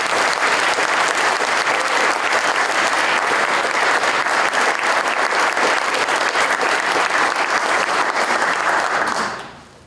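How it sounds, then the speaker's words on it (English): A large audience at a 2019 city address bursts into loud, sustained applause, dense clapping that carries steadily for nearly ten seconds before cutting off abruptly at the end. "Let's give Ray a big round of applause"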